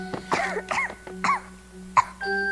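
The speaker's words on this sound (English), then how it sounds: "That aggravated her cough." A woman character in the game 11-11: Memories Retold coughs, ill and with her cough aggravated: several harsh, throaty coughs in an uneven rhythm over a steady low hum, close and fairly loud, with no speech.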